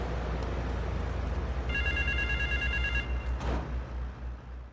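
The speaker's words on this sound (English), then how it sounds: "Phone ringing." A telephone in the game Grand Theft Auto III rings with a trilling electronic bell burst lasting over a second, over a steady low engine-like drone and background game ambience.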